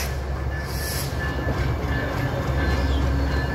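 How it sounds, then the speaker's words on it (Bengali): A passenger train bound for Dhaka from Panchagarh at Parbatipur railway junction in Dinajpur rumbles with a steady low rolling drone of wagons, fairly close and continuous, with a faint high squeal briefly above it. "পঞ্চগড় থেকে ছেড়ে আসা ট্রেনটি ঢাকার উদ্দেশ্যে"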